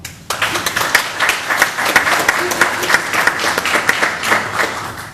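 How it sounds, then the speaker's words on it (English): Audience applause at a county meeting after a behavioral health proclamation signed by the Allegheny County commissioners, a dense steady burst of many hands clapping that starts abruptly and holds loud throughout. "Let's give them an applause."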